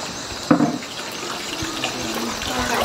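Water runs steadily from a hose or tap while a garden water fountain at a rose garden is washed and scrubbed clean, a soft continuous splashing with a brief louder splash near the start.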